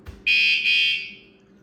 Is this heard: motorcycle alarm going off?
yes